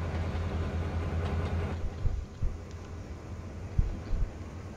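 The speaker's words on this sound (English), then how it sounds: "There's the AI train." An AI-driven train passes in a Conrail local freight scene on the Trinity Bay route in Train Simulator 2012. A steady low rumble rolls along with a few louder thumps and clunks near the end, and no one speaks.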